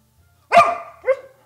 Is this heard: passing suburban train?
no